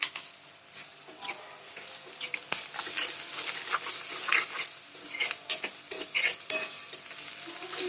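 Peanuts and pieces of Byadgi chilli roasted in a pan for chutney, a faint sizzle with light scattered pattering and scraping stirs, close and irregular, without speech.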